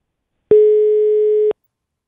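A single steady telephone tone during a call to a number, lasting about one second, clean and loud, then silence.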